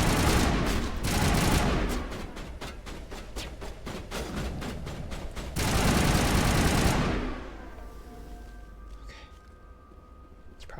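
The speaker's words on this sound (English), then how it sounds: "I can hear the snipers." Sniper fire in Mass Effect 1 crackles as a loud, rapid string of sharp shots, then stops, leaving a quieter tonal hum from the game's surroundings.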